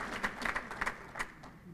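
An audience at a Shura Council banquet in 2010 claps in a brief, faint burst of scattered applause, heard from a distance with no talking over it.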